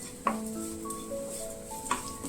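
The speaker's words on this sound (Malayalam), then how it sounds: "പച്ചമണം മാറുന്നോടം വരെ ഇളക്കി കൊടുക്കുക" A spoon stirring turmeric and chili powder in a pan for sambar, with two sharp metallic taps against the pan and a faint sizzle between them.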